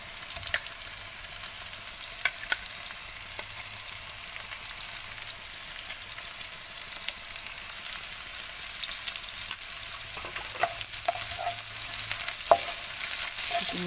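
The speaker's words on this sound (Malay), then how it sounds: "Kita tumis dulu." Fiddlehead ferns stir-fried with salted egg in a pan give a continuous, gentle sizzle, with occasional spatula scrapes and clinks against the pan and no talking.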